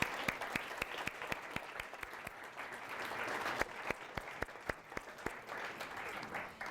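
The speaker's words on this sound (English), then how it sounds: "Let's give all of our presenters another round of applause." An audience applauds presenters at a university case competition awards ceremony, with many distinct sharp claps in a loose, uneven rhythm standing out from the general patter, fairly faint and distant, with no talking.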